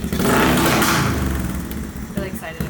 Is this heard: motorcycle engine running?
yes